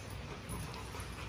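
An XL Pitbull dog whimpers softly and continuously against a faint background, with no talking.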